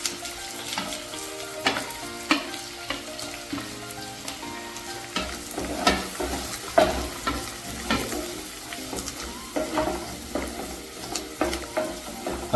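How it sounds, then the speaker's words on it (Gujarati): Curry leaves, chopped onion and chili hit a hot pan, giving a steady close sizzle and frying hiss broken by repeated scraping stir strokes, with no talking. "હવે એમાં કડી પત્તા નાખીએ અને ડુંગળી અને મરચાં સમારેલા મેં અંદર નાખીએ"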